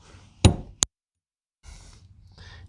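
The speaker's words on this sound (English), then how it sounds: "I can just take a small hammer and a chisel" A small hammer and chisel knock on a rusted fuel pump lock ring of a 1998-2000 Chevy Tahoe, giving two sharp close metallic strikes followed by quieter scraping handling noise.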